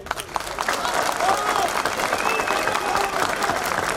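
A crowd at a municipal labor agreement celebration claps steadily, a dense round of applause with some shouted voices and whistle-like cries rising over it.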